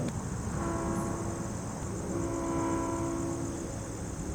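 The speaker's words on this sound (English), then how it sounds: "Oh, I definitely hear that horn." A train horn at a railroad crossing gives two long, steady blasts from a distance. They sit faintly under a constant high whine of insects and a steady outdoor background.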